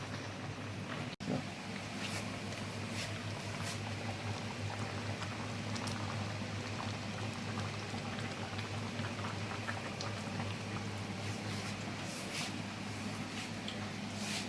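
Pui shak with prawns simmers in a pot, a steady soft bubbling and patter that runs continuously without pause, close and fairly quiet.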